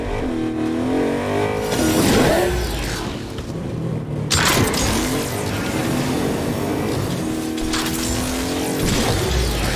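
A car engine in the video game Agents of Mayhem revs hard and roars through rising gear sweeps, with a deep boom midway and continuous close, loud accelerating whine.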